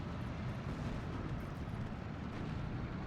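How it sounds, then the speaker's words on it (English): Big mortar shells landing in a town during a Steel Division 2 battle, heard as a continuous low rumbling barrage of heavy booms with no clear gaps, loud and close. "Big mortar shells landing in the town now"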